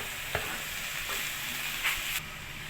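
Scotch bonnet peppers stirred into a sizzling minced meat and vegetable sauce in a pan, a steady soft frying hiss with a few brief scraping stir sounds, no talking.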